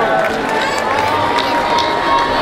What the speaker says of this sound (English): Round of applause for our second group of the wedding.